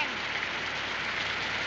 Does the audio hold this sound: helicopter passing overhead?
no